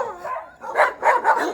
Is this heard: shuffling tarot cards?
no